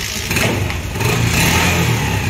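A kick-started Honda motorcycle engine revs up close by, a loud, continuous buzzing drone that rises in pitch and holds through a short burst.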